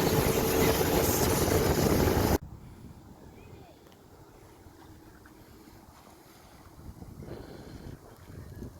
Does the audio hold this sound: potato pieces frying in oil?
no